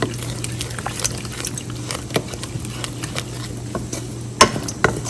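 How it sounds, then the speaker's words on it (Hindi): Two eggs with black pepper and salt are mixed by hand, giving soft rhythmic tapping and sloshing against a bowl over a steady background hum, with a couple of sharper clinks near the end. "ये देखिए, अब इसको अच्छे से इस तरह मिक्स करते हैं।"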